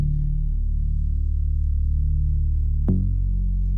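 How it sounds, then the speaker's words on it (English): A Serum synth bass with saturation plays sustained low root notes, deep and steady, heard alone, with a single note change near the end. "So here's the bass by itself."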